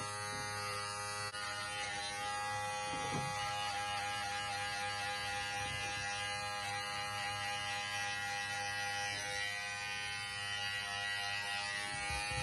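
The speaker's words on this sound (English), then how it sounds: "Grab the trimmer and get all that hair right there on your throat" An electric hair trimmer buzzes steadily and close up while cutting hair on the throat in an at-home grooming session, a continuous motor hum lasting throughout with a few brief scraping bursts as the blade passes over the skin.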